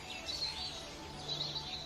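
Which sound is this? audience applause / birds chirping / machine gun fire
birds chirping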